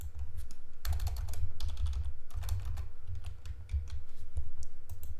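Steady typing on a computer keyboard, close clicking keystrokes in quick uneven bursts with short pauses, over a low hum.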